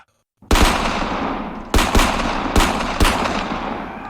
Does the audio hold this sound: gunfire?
yes